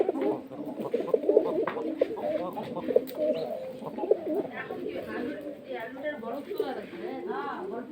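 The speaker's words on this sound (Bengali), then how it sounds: "আমার কবুতর লবণ খাচ্ছে" A flock of pigeons coos softly and continuously while pecking at salt, a low murmuring babble with a few sharper clicks and scuffles.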